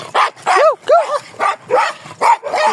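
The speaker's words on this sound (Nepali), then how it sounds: "कुकुर कति धेरै" A dog barking repeatedly at close range, a rapid series of loud, evenly spaced barks mixed with whimpering yips, with no talk over it.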